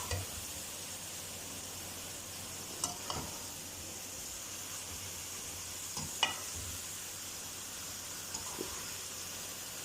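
Fried okra and potatoes are stirred with masala in an oily pan, giving a steady low sizzle with a few soft scrapes and clicks of the spoon, fairly quiet and close.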